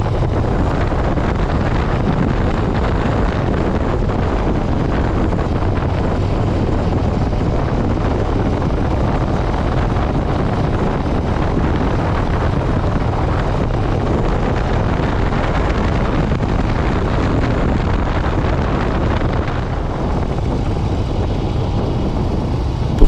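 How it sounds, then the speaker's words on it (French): Engine and road noise on a drive along small winding roads in Ardèche, a steady loud rumble with heavy wind buffeting, continuous from start to finish. "privilégier le bruit du moteur à la musique"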